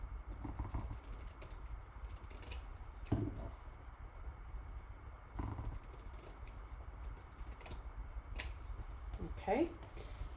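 Scissors snip through needlepoint canvas in a few quiet, sparse cuts separated by pauses, with soft handling noise in a hushed room.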